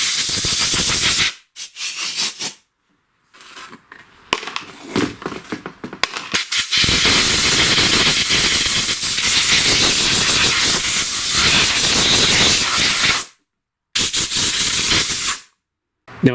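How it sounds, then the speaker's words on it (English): Compressed air blasts clean the dirty carburetor of a STIHL BG56 leaf blower, coming as loud, steady hissing bursts broken by short pauses. "And now I'm just going to air blow this clean here."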